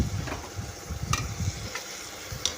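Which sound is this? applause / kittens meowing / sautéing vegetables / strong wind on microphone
sautéing vegetables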